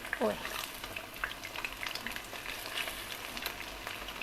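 Mussel batter pancake with eggs frying in hot oil, a bright crackling sizzle close up with frequent small pops and occasional spatula scrapes throughout.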